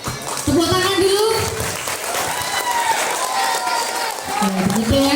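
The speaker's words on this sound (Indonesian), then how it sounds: "Tepuk tangan dulu." An audience at a discussion event marking the Prophet's birthday and Santri Day gives steady, dense applause. A person talks over the clapping throughout.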